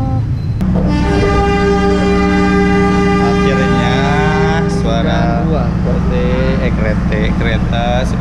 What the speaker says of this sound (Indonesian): Kereta sudah terdengar